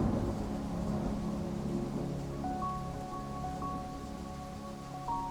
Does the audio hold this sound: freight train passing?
no